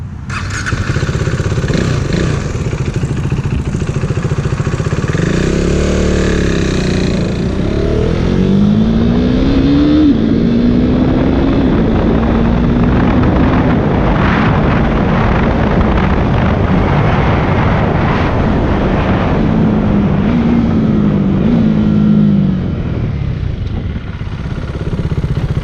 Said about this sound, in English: I'm going to take off, speed up, shift to like 5th, and then I'll blip the throttle